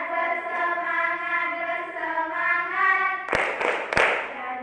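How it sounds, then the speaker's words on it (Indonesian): A group's rhythmic spirit clap begins as a few sharp, loud unison claps close together, following a stretch of voices chanting together. "Tepuk semangat."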